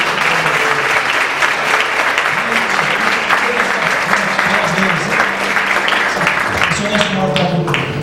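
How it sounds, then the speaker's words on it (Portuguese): A church congregation applauds during an evening communion service, loud continuous clapping with voices and some tonal sounds mixed in underneath. "Nós aplaudimos o Senhor dessa vez."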